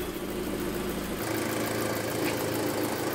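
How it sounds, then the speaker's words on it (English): A 2.0T four-cylinder engine in an Audi A4 B6/B7 idles steadily with a low, even drone and faint mechanical ticking, running alone at close range throughout. "the vehicle looks like it's running okay for now"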